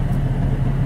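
A car engine with a loose muffler idles close by at a drive-through, a steady low rumble with a throbbing, uneven rattle and no break.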